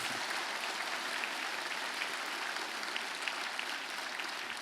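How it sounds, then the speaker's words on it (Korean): Church congregation at a New Year revival service applauding together, a steady dense wash of clapping held at an even level for the whole stretch, no voices over it. "우리 서로 자축에 박수 좀 한번 쳐드립시다."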